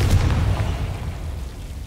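Confringo fire spell bursting in the video game Hogwarts Legacy, a loud, close, rumbling blast that decays into a sustained low roar over about two seconds, with no talking.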